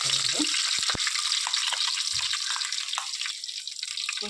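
Mustard and fenugreek seeds spluttering in hot oil for a fish curry: a steady close sizzling hiss scattered with sharp little pops, loudest at the start and easing slightly toward the end.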